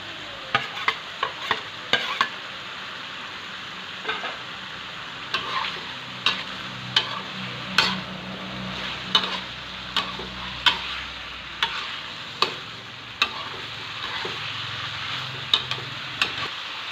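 Eel stir-fried with fingerroot, chilies and peppercorns sizzles steadily in a pan, with regular sharp clicks and scrapes of a spatula stirring throughout, close up.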